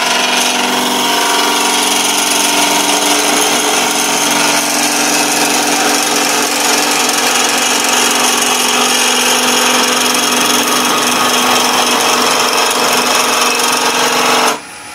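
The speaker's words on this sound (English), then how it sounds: "This is what a bevel bounce is." A wood lathe spins a spinning-top blank while the gouge bevel bounces and chatters against the wood, a loud, dense, continuous grinding rattle that runs nearly the whole time before cutting off abruptly at the end.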